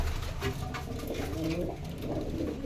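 A flock of pigeons of many sizes coo steadily in a home garden. Their low, throaty calls overlap continuously and sound close, over a dense, rustling outdoor background.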